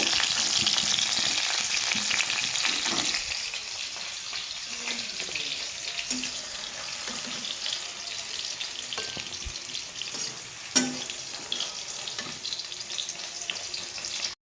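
Whole garam masala (cardamom, cinnamon and cloves) fries in oil in a pan, with a continuous close sizzle and occasional light clinks and stirring.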